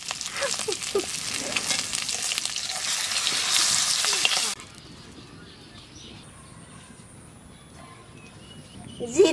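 Deshi magur catfish sizzles loudly in hot oil for several seconds, then the crackle drops away abruptly to a quiet room hum, with a faint clatter rising at the very end.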